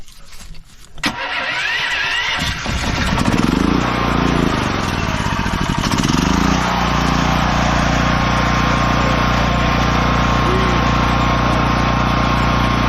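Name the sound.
Predator 8750 tri-fuel generator engine running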